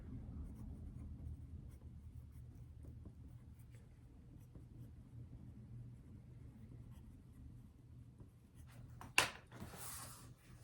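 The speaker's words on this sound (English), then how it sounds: "So let's write that down." A pen or pencil writes a character name on paper, a faint, steady scratching close by against a low background hum, ending in a brief sharper tap and rustle.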